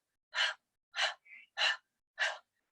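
Breath-of-fire yoga breathing during a seated chair yoga session, four sharp, forceful nasal exhalations spaced about half a second apart, close and isolated, with a faint softer breath between them.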